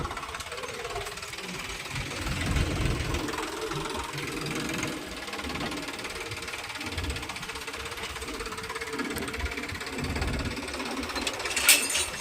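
A farm tractor's engine chugs steadily while manure is loaded into its trailer, a continuous mid-pitched rattling idle with faint knocks and a sharp clank near the end.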